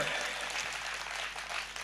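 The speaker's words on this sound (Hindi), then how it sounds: "आपकी तालियां कमजोर है मेरे दोस्त" Applause from the audience at a Hindi poetry recital (kavi sammelan), a brief, fairly faint, continuous wash of clapping.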